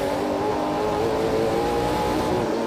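NASCAR race car engine heard from an in-car camera, a steady loud buzzing drone held at high revs with slight throttle modulation throughout, no talk.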